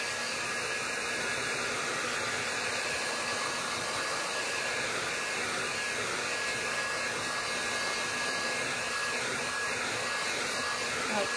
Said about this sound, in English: I'm taking my heat gun again.